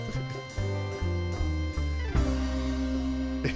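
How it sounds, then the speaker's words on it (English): A Vox organ set to a bell-like voice plays sustained chords that shift every half second or so, loud and close with no other sound. "Yeah, Vox organ. Yeah, this is"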